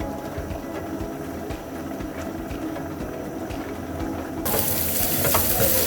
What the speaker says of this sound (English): So on our pan, we're going to add 2 tablespoons of vegetable oil. Then add our diced onions.